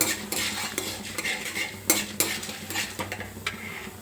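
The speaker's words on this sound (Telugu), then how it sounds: "పోపు బాగా వేగుతుంది." Chana dal, urad dal and mustard seeds temper in hot oil with a bright continuous sizzle and crackle, broken by close metallic scrapes and clinks of a utensil against the pan, with no talking.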